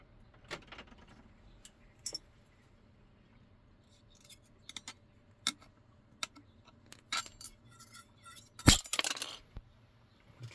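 Scissors cut a homemade lemon strap through its center, splitting a 40 cm length into two pieces. Faint, scattered snips and clicks build to one sharper cutting crack near the end, with no talk.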